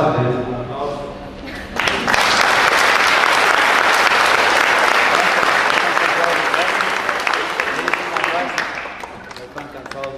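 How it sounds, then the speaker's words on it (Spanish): Guests at a church wedding ceremony break into loud, sustained applause after a voice speaks, the clapping dense and crowd-wide for several seconds before tapering slightly. "les des un aplauso"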